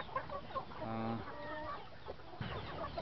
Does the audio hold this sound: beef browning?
no